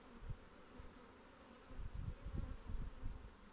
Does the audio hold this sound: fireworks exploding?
no